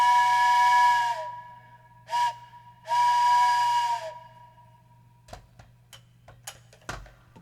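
A steam train whistle sounds as an alert for a Twitch hype train: three loud, clear tonal blasts, two long and one short between them, followed by scattered sharp clicks and ticks.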